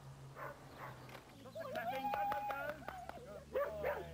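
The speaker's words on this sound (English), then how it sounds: "Border Collies are very active and intelligent dogs." Border Collies being trained at a home on Hayling Island yip, whimper and bark in a run of short, close calls, with a person talking over parts of it.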